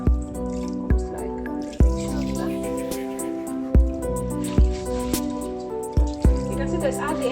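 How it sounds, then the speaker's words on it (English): Black rice is rinsed with hot and cold water, giving a steady series of close, evenly spaced drips and wet splashes over a constant background hum. "So I'm washing with hot and cold water"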